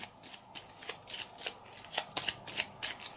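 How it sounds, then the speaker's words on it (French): Board game cards being shuffled by hand, a run of quick papery riffles and flicks in irregular bursts, close and fairly quiet with no talking. "Je mélange cette carte-là avec ces cartes."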